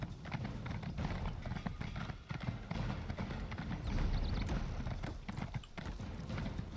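Rapid clip-clopping hooves of a galloping horse in the video game Elder Scrolls Online, steady and continuous, with faint game background sounds underneath.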